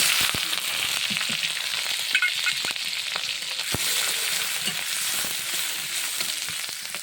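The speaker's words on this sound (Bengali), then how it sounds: "করলাগুলো ভেজে হলুদে গুঁড়ো দিয়ে দিলাম" Bitter gourd (karela) sizzles steadily in hot oil in a wok, a continuous close crackle with occasional sharper pops and stirring clicks.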